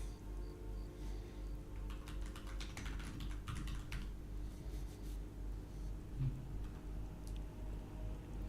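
Keys clatter on a computer keyboard in quick, irregular bursts, close and fairly quiet over a low steady hum, with no one talking.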